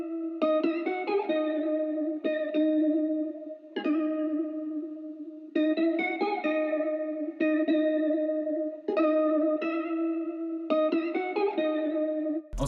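Sample pattern built from Arcade's downstream bank: a looping melodic phrase of bright, effected plucked-style tones with chorus and echo, repeating in short bursts with brief gaps, loud and alone with no voices.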